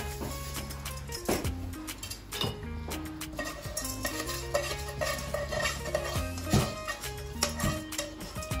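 Rice going into a pot of jollof sauce, with metallic clinks and scrapes of a spoon against the pot and repeated stirring sounds, fairly close and without talk.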